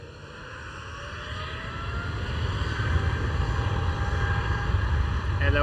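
A KLM Asia Boeing 777-200ER airliner takes off at Amsterdam Schiphol, its jet engines a steady roar that grows louder over several seconds, heard from a distance, with a voice talking over it.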